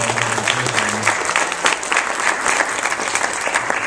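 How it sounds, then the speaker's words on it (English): Applause from an audience at a Hispanic Staten Island panel event, a steady dense patter of many hands clapping throughout, fairly loud and continuous with a faint voice murmuring briefly at the start. "really a big round of applause for them as well too"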